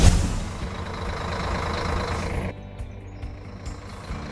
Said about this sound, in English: Real Truck Simulator Europe throws you into the driver's seat of a big rig across the European landscape.